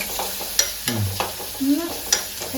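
Curry leaves and shallots stirred into hot oil in a frying pan for a Kerala fish curry crackle and sizzle, with quick utensil scrapes and clicks coming in short irregular bursts close by.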